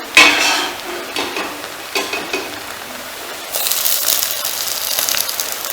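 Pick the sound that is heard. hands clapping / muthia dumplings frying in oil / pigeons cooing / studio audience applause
muthia dumplings frying in oil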